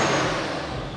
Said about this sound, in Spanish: Sonido de motor, pues ya ves.